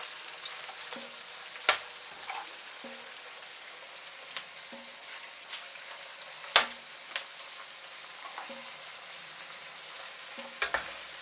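Prawns cooking with garlic and onion in a pan for pinakbet, a quiet steady sizzle with occasional spatula knocks and scrapes, close and without talk.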